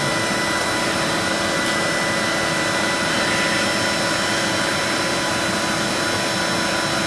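A vacuum cleaner roars loud and steady at close range, cleaning dust off the flyback transformer inside an opened 800 MHz eMac computer, with no pauses and no talking.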